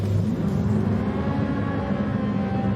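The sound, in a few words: racing car engine revving before the start, from a video game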